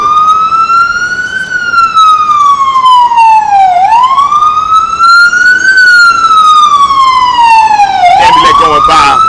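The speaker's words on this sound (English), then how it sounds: "Ambulance going by, and you know what I'm saying, it's loud as hell." A loud ambulance siren wails close by, its tone sweeping slowly up and down in long cycles while traffic rumbles underneath.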